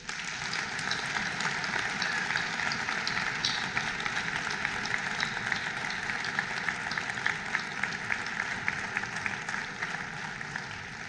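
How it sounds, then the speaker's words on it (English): A ceremony audience at an Ohio National Guard sustainment brigade event gives a sustained, even round of applause, a dense continuous patter of many hands that stays level throughout with no talk. "Please give them a round of applause."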